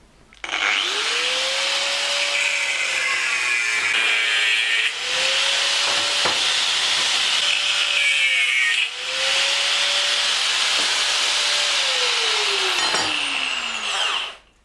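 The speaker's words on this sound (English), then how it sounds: "Now I've got to cut out the piece in the middle to match this gap here." A power tool cuts out the middle section of a metal engine adapter plate, a loud steady whine rising and falling over about fourteen seconds, briefly easing twice before it spins down.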